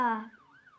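An ambulance siren in a video game wails briefly, a rich harmonic tone sliding down then rising again in a short two-tone sweep, fairly clear and alone.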